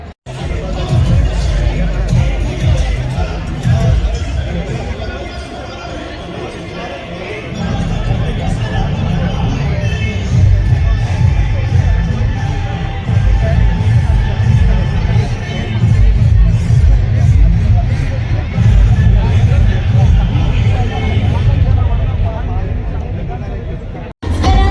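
A large crowd packs a public rally at Shivaji Park in Mumbai, giving a dense, continuous hubbub of many voices. The babble stays loud and steady throughout, with a brief dip early on.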